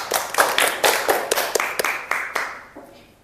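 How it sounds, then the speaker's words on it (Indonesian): A small classroom group claps for a student named Kesia, a handful of sharp, uneven claps that thin out and fade within a few seconds. "Tepuk tangan untuk Kesia."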